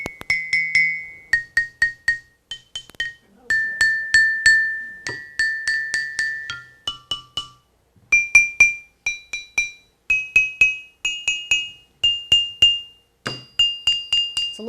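A stone lithophone is struck on top and side, giving bright ringing two-toned notes, a long run of rhythmic taps and sustained pings at different pitches, close and clear with no talk.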